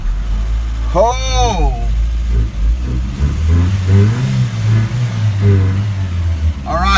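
A 1993 Mitsubishi Mighty Max pickup engine, primed with starting fluid, cranks and catches into rough revving that rises and falls loudly nearby, with a brief exclamation from a person over the engine.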